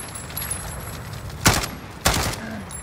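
Gunfire in the Modern Warfare video game during a hardcore Search and Destroy match, two sharp loud shots about half a second apart over a low steady background hum, no speech.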